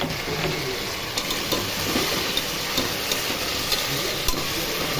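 Chopped tomatoes hitting hot oil with ginger garlic paste for egg rice, giving a steady loud sizzle and fry with a few light stirring scrapes, close by and with no talk.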